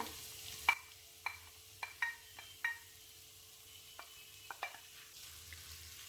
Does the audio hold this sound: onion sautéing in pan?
yes